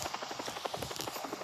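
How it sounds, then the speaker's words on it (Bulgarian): A helicopter spawned in a snowy driving video game gives off a steady, rapid rotor chop, evenly pulsing throughout at moderate volume with no talk over it. "Ето сега ще спана хеликоптер."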